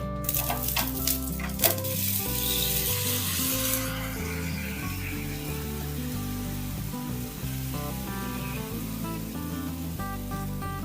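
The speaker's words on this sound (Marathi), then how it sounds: "तर छान अशी आपण आंबोळी परतून घ्यायची" Amboli rice pancake roasting on a pan sizzles softly and steadily, with scraping and clinking at the start, under continuous background music.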